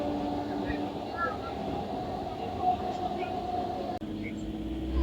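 A local train rolls steadily along the track just after pulling out of Ukiler Hat station, its carriage rumble and hum constant and close, with a brief clunk near the end.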